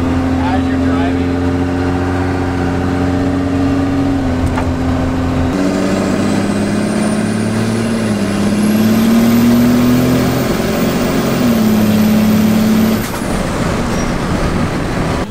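A first-generation Cummins diesel truck with a 47RE transmission swap is driving, its loud engine droning steadily with pitch shifts as it changes speed, joined midway by a high whine, with no voices.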